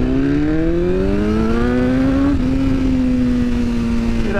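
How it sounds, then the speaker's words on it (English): A 2022 BMW S1000R motorcycle engine at full throttle from about 20 mph, a loud continuous high-revving wail climbing steadily in pitch, briefly dipping at a shift, then holding high. "I just pinned the throttle there from what, 20 odd mile an hour, and the rider aids are keeping things in check"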